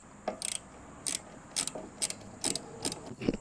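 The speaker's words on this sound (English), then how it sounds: "loosen these hose clamps, and remove that" Quick bursts of ratchet clicking come from a wrench loosening hose clamps on the intake of an Audi S3 or Golf R. Six or seven short, close clicking runs are spaced about half a second apart, with a small knock at the end.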